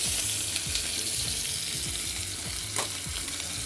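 Meat frying in its own fat in a pan in a kitchen, a dense, steady sizzle with crackling pops throughout, close and loud, no talk.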